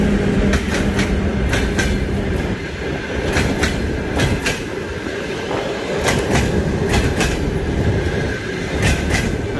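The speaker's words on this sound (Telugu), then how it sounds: "Russian trains." A Russian passenger train rolls past a station platform, its wheels beating a loud, steady clickety-clack with regular rail-joint clacks over a continuous rumble.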